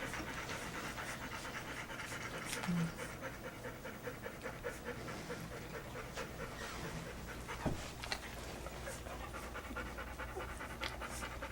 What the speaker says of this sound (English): Poor Libby's panting, even though the house is air conditioned.